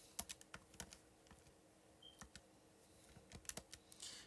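Calculator keys tapped in quick irregular bursts of light clicks, close and quiet, with short pauses between presses.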